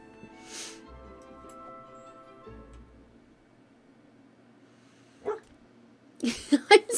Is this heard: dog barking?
yes